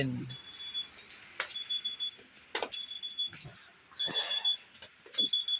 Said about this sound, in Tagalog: Narinig niyo yung yung alarm ng cellphone ko.